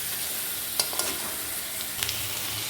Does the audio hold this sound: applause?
no